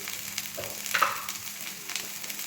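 Bitter gourd frying in a pan, a close steady sizzle with brief scraping stirs of a spoon over it.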